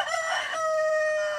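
A rooster crows close by in a single loud, drawn-out cock-a-doodle-doo, rising then holding a long steady final note, with no talking.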